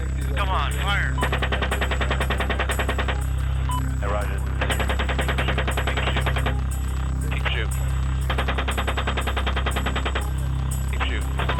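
Rapid bursts of automatic gunfire from a helicopter in combat footage rattle in long sustained strings separated by short gaps, over a constant loud rotor drone, with radio chatter in between.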